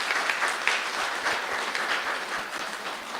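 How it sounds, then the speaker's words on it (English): A research-day audience at a Montserrat health ministry event claps for its presenters, a dense, sustained round of applause at fairly close range filling the whole stretch. "So can we give our presenters a round of applause?"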